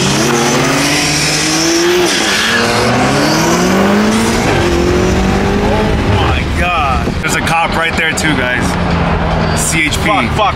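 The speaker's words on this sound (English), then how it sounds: "Trying to race the Hellcat, Aaron's?" A car accelerating hard while racing a Dodge Hellcat, a loud continuous engine roar climbing through the gears with a possible tire squeal, and excited voices over it.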